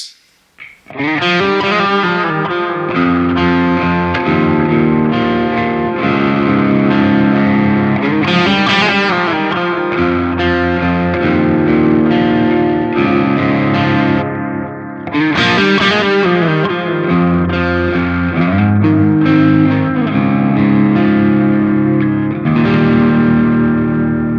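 A heavily distorted electric guitar plays sustained chords with chorus-like shimmer, loud and continuous, no voices.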